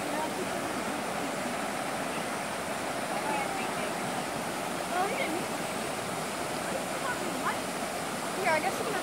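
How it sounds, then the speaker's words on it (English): A natural spring creek near the Colorado River flows with a dense, steady rushing wash of water, continuous and fairly loud, with faint voices in the background. "it's a natural spring creek, which runs a good, pretty far distance"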